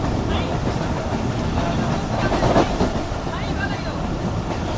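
Rehman Baba Express passenger train running at speed after leaving Mudero Lal station, heading toward Tando Adam: a steady, continuous rumble of wheels and carriage noise with wind, heard from on board, with faint voices underneath.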